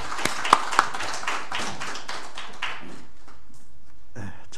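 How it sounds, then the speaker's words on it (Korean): A church congregation at an anniversary ordination thanksgiving service gives a short round of hand claps. A few sharp, loud claps stand out early, then the clapping thins and fades into quiet room noise. "박수로 환영하겠습니다"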